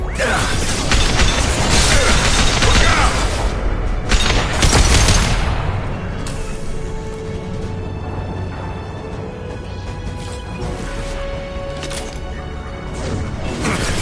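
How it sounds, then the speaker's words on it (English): Flashbang grenades go off in the video game Mass Effect 2 during Lair of the Shadow Broker, loud booming blasts and crashing bursts in the first six seconds, then a lower rumbling game soundscape with scattered impacts. "Watch out! Flashbangs!"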